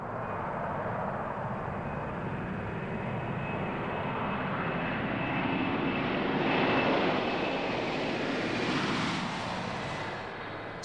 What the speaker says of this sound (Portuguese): Quando esse jato gigante decola pela primeira vez, é pilotado por um piloto de prova da Boeing.